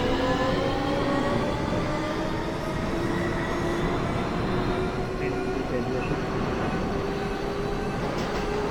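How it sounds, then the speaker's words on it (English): An F subway train in the OpenBVE train simulator pulls into Fort Hamilton Parkway station, giving a steady loud rumble with a faint high wheel squeal that runs through the whole stretch. "F train pulling up at Fort Hampton."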